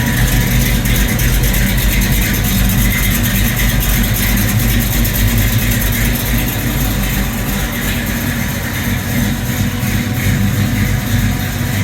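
A 1972 Buick Skylark convertible with a 455 V8 and 700R4 transmission runs close by, its engine a loud, steady rumble that holds throughout with no voices.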